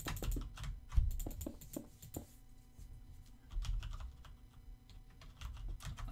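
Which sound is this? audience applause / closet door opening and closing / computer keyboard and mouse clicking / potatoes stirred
computer keyboard and mouse clicking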